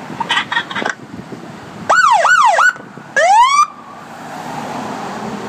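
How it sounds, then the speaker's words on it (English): A New Jersey police car siren plays in short bursts: a few quick electronic chirps, then repeated rising-and-falling wails, a pause, and another rising whoop, loud and close with no talking. "Now do the siren and the thing."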